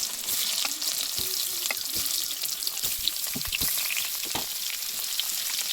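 Boiled potatoes sizzle and crackle steadily in hot oil in a wok with whole cumin and bay leaves, with occasional stirring clatter, close and continuous throughout.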